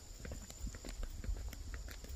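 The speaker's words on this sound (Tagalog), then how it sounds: "Ay may kabayo." Horse hooves clip-clop in a steady, moderately close rhythm along a mountain road, a string of distinct hoof strikes heard over faint background ambience.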